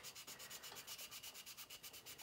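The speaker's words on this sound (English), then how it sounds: "I'm just taking some 800 grit sandpaper and I'm wetting it down" Close, quiet rhythmic wet sanding with 800 grit sandpaper on a plastic model spaceship, even back-and-forth strokes repeating steadily with a soft wet swish.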